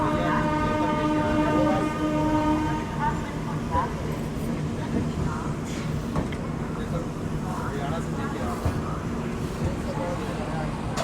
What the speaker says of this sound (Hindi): लगभग अभी 11 मिनट रुकने के बाद अपनी ट्रेन निकल रही है कानपुर सेंट्रल से